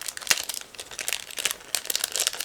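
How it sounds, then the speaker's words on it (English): Crinkling and tearing of a plastic bag holding clear canopy parts for an ICM 1/72 MiG-25PD model kit, a close, fitful series of rustles and crackles over a couple of seconds with no talk. "next we have separate plastic bag with clear parts, so just give me a second, I'll open it"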